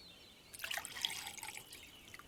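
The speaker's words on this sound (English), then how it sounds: "Could you pour me some more tea, dear?" Tea pouring from a pot into a cup in a cartoon scene, a soft splashing trickle that starts after a brief pause and runs steadily for well over a second, close and fairly quiet.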